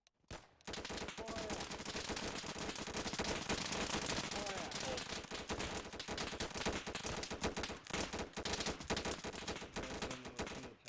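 Unsuppressed gunfire in a multiplayer shooter game as a line of players opens fire at will, a dense, sustained crackle of overlapping shots that runs loud and steady for about ten seconds after a brief pause.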